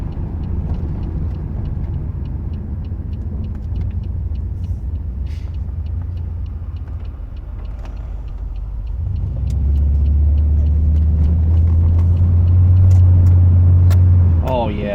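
A car with its exhaust resonator removed drives along city streets, its engine rumbling steadily and then swelling into a louder, deeper drone between buildings, with a voice speaking briefly over it.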